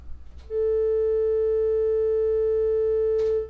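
A steady pure sine test tone played from Audacity in a room fitted with DIY acoustic panels, one loud sustained beep of about three seconds with brief clicks at start and end.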